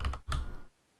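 Quick bursts of typing on a computer keyboard, a few rapid clustered keystrokes close up, then a pause into quiet, during a Dota 2 league broadcast.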